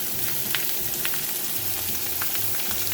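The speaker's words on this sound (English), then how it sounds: "That's what's going to allow these steaks to brown and sear," Steaks sear in a hot pan, giving a dense, steady close sizzle with faint crackles and pops and no talking over it.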